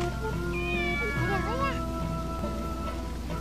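A cat meowing in the rice-farming video game Sakuna: Of Rice and Ruin, a couple of clear rising meows over steady rain and soft background music, with a voice speaking faintly.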